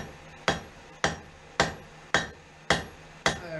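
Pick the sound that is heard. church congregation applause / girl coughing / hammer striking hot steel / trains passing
hammer striking hot steel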